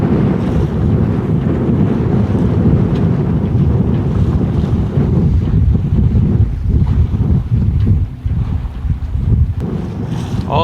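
A sailboat running under its headsail alone, with strong wind buffeting the microphone over a steady rush of water and waves along the hull, continuous and loud throughout.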